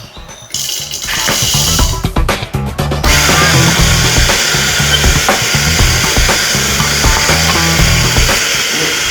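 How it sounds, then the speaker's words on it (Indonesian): A coffee grinder set to grind size 1 grinds 15 grams of beans, a few rattling clatters first, then a loud, close, continuous motor whir with a gritty crunching edge. "Terus habis itu kita grind. Di grinder ini kita pakai grind size ukuran 1."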